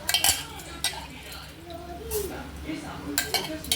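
Washed rice tipped into a pot over lightly sautéed vegetables for a spicy Maharashtrian pulao, with a spoon scraping and clinking against the metal pot in sharp bursts, close up with faint sizzling and some talk in the background.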